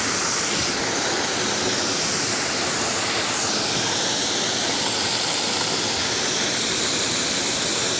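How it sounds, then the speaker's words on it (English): Heavy rain pours down outdoors near a waterfall in the Otways, a loud, dense, continuous roar of falling water with no pauses. "Oh, it is starting to really pour."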